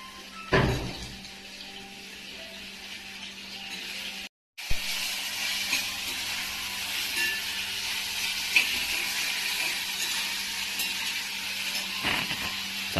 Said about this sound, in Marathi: चालू आहे आता कढईमध्ये टोमॅटो आणि कांदा फ्राय करायचं काम.